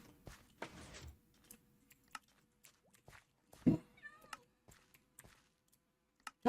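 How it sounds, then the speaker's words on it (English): A black cat in a video game lets out a short meow among sparse clicks and taps, with other small game sounds scattered across a quiet background. "Your unusual random spawn black cat."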